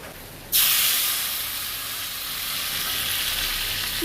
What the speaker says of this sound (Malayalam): അത് നന്നായിട്ട് തിളച്ച് വരുന്ന സമയത്ത് ഈ ജാതിൻ്റെ തളിരില നമുക്ക് അതിലേക്ക് ഇടാം